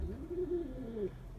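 A large homer pigeon cooing close by, a single soft, low, rolling coo of about a second, with no talk.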